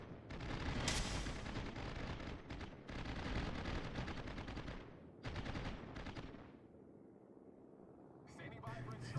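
Naval gunfire rumbles in World of Warships, dense booming salvos and rapid flak bursts rolling on continuously up close, pausing briefly before resuming.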